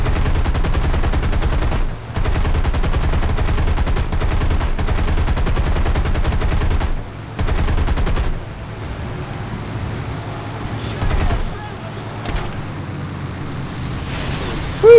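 In the War Thunder air-combat game, aircraft cannon fire rattles in long, rapid, loud bursts broken by brief pauses, with a lighter burst near the end.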